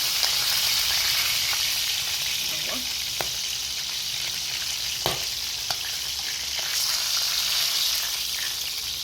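Chicken fries in a pan of hot oil with a steady, loud sizzle and crackle, broken by a few sharp clicks and light stirring sounds, and no voice over it.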